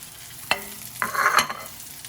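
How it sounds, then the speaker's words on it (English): Onions cooking in a pan with bacon added back, a low background sizzle punctuated by a few clattering stirs and scrapes of a utensil close by, no one talking. "While the onions are cooking, I'm going to separate the fat from the bacon. First, we're going to add the bacon back."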